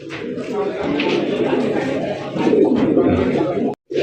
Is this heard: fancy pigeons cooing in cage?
yes